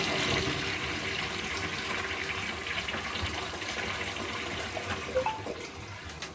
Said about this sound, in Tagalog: And flush again.